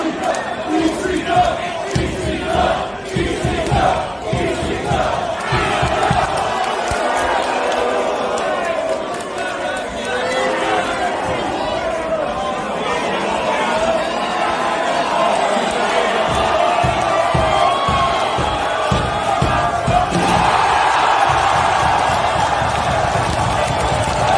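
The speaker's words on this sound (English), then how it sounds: "Crowd is rumbling, man, stomping their feet." Wrestling crowd in an arena rumbling and stomping their feet, a loud, continuous roar with dense thudding and shouting throughout, energetic and unbroken.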